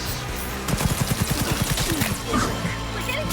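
Rapid automatic gunfire in Cyberpunk 2077, a fast burst of evenly spaced shots that breaks off into a few scattered cracks and impacts.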